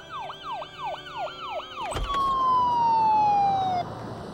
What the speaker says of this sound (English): I started to hear sirens.